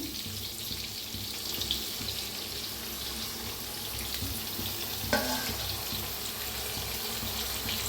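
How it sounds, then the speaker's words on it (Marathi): Water poured along the edge of a pan of cooking ridge gourd, a steady close hiss and splash blending into sizzling that runs throughout, with one brief clink midway. "थोडंसं पाणी ओतायचं कडेने"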